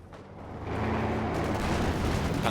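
Machine gun fire in Company of Heroes 2, a dense roar of rapid shots that swells within the first second and holds steady and loud, with battlefield rumble underneath and no one talking.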